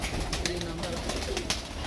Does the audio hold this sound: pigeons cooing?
yes